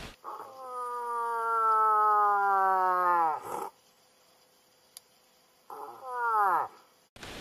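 A female moose gives a mating-season call, a long, loud nasal moan that falls in pitch at the end, followed after a pause by a second, shorter bellow rising then dropping.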